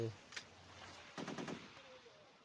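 Faint gunfire in the mobile shooter Modern Sniper, a single sharp shot followed by a quick rattling burst of several rounds, quiet and somewhat distant.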